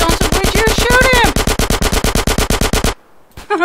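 Rapid automatic gunfire from GTA San Andreas, a loud close burst of evenly spaced shots lasting about three seconds, then a brief pause and one more short crack.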